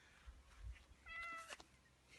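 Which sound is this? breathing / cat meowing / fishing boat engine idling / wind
cat meowing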